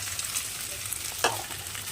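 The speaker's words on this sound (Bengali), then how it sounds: "এরপর আমি আলুটাকে এর মধ্যে অ্যাড করছি" Potatoes go into a pan of frying onion, chilli and capsicum, with a steady low sizzle and a brief louder splash of sizzling and stirring midway through the short moment.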